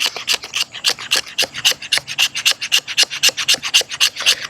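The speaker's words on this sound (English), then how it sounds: "I'm going to see how well it scrapes some of the cedar." A knife spine scrapes along cedar wood in a steady run of about twenty quick, rasping strokes, each one a bright, dry scratch, heard close up and alone.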